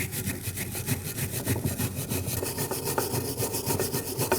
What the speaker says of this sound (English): Using a wire brush, we're going to clean where the tins are going to sit in our caliper.